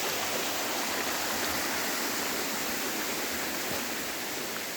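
Spring water from a stream flowing beside a field in Sakarya makes a steady, dense rushing wash that stays constant and fairly loud throughout, close by, with no voices.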